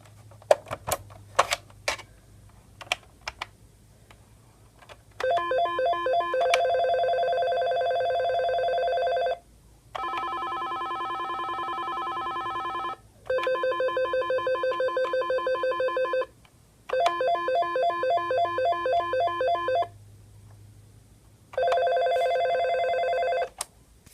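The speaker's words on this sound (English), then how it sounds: "This is a Astra or something, I don't know, but it's like a Nortel phone" A Nortel office desk phone rings in repeated electronic trilling bursts, each lasting a few seconds and separated by short pauses, loud and clear with a few button clicks at the start.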